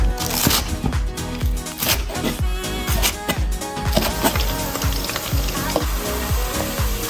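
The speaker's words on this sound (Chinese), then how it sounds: "洋葱炸到这个程度就好了" Onions deep-frying slowly in oil in a wok over low heat make a loud, dense sizzle with constant popping crackles and occasional stirring scrapes.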